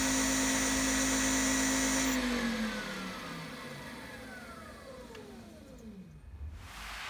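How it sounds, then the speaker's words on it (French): An alternator converted into a brushless motor, wired in star and run from a 48-volt, 1500-watt controller, whines at second speed, then its tone sweeps steadily downward as it winds down over several seconds, with no talking. "Alternateur transformé en moteur brushless"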